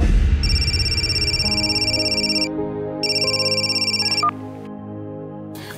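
An electronic phone ringtone chirps in a rapid repeating pattern, rings in two loud bursts separated by a short pause, then cuts off, with no talk over it.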